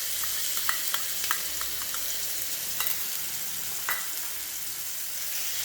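Grated raw mango dropped into hot oil tempered with mustard seeds and asafoetida, sizzling in a steady, even hiss over low heat. A few faint pops and light stirring taps sound close by.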